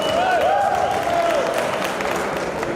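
A community gathering applauds the FOG team, with steady crowd clapping and a drawn-out tonal cheer riding over it, full and close for nearly three seconds.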